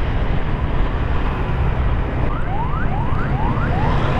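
An ambulance siren wails in a few rising sweeps, faint and partly buried under heavy road and motorcycle engine noise on a busy street.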